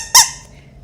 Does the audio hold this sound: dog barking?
no